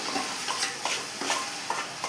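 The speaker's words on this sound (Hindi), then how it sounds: "सबसे पहले डाल दिया है तेल, तेज पत्ता और लहसुन का पेस्ट" Bay leaf and garlic paste sizzle in hot oil as tempering begins for a paneer curry in a home kitchen, a steady close hiss broken by regular stirring scrapes.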